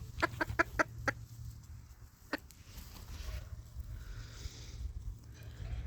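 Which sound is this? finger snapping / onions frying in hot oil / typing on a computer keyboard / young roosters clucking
young roosters clucking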